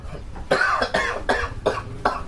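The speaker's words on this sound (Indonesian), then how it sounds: "gue batuk biasa doang" A person coughs repeatedly in a series of about five harsh, close bursts, evenly spaced and with no talking between them.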